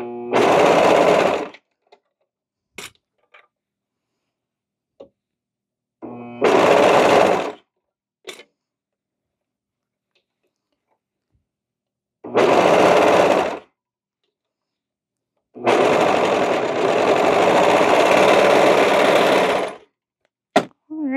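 A sewing machine stitching a cardigan runs in four separate bursts, the last one longest, with quiet pauses and small clicks in between.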